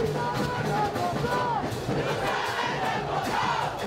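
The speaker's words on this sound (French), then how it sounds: "applaudissements pour les deux équipes" Crowd at a basketball game cheering and applauding both teams after a close 31-29 finish, a dense, steady roar of voices with scattered whistles and shouts throughout.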